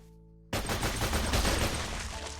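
A submachine gun from the Minecraft Techguns mod fires a sustained rapid burst, loud and dense from start to finish, beginning abruptly after a brief quiet hum.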